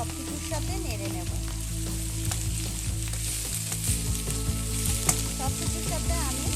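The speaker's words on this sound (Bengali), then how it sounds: "এবার এর মধ্যে আমি দিয়ে দিচ্ছি পেঁয়াজ কুচানো আর রসুন থেতো করে নিয়েছি সেটা দিয়ে এবার ভালো করে আমি একটু সব কিছুর সাথে নেড়ে নেব" Chopped onion and crushed garlic frying in hot oil in a pan, a loud continuous sizzle with repeated scraping and clinking of a spatula as everything is stirred together.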